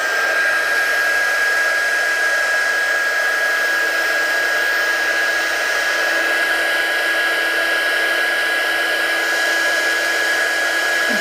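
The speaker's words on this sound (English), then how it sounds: "I remember this embossing gun was super high powered." A high-powered heat embossing gun blows hot air in a constant, loud, close whine and rush that holds steady without a break, with no voices.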